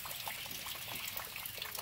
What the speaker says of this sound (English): Well, it is 3:30 and it's still raining.